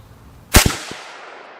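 An M1 Garand rifle fired at a target outdoors: one loud sharp report with a quick follow-up crack and a fainter click, then a fading echo tail.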